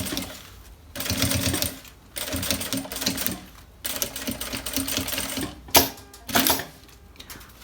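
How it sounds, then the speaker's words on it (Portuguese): A sewing machine topstitches a fabric pencil case on a long stitch setting, running in several steady bursts of rapid mechanical chatter separated by brief pauses, with a couple of sharp clunks near the end. "Viro aqui e passo a costura rebatendo no ponto grande."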